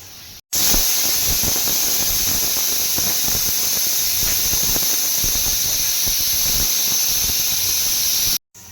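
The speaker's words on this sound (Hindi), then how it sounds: "राजमा कुकर में अब सीटियां आ रही हैं" A pressure cooker cooking rajma (kidney beans) lets out a loud, continuous hissing whistle of steam that holds steady for several seconds before cutting off abruptly.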